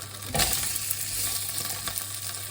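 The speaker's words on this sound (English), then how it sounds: "we're going to get all this lovely vegetables into this pan" Vegetables and chilies going into a hot pan, a loud close sizzle that flares as they hit the oil, with stirring scrapes over a continuous frying hiss and no talk.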